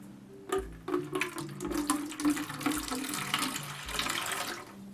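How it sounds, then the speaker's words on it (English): Water pours into a plastic jack-o'-lantern tub during a load test, a close, gurgling splash that runs in uneven surges with a few low thumps. "And we're going to add water and see when she fails."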